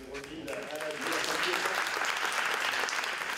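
Applause from an audience at an award ceremony honoring a musical instrument repairer swells into a dense, continuous clapping that grows louder after the first second and holds steady.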